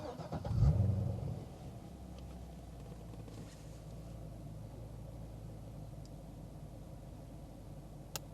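A 2010 Chevrolet Corvette 3LT with a manual gearbox fires up with a brief, loud cranking roar, then settles into a low, steady idle rumble that carries on quietly.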